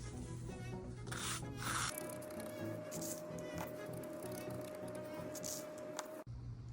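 Sand being spread and evened out by hand across the base of a 1:12 scale dollhouse miniature aquarium, a steady close gritty rubbing and scraping that continues for several seconds.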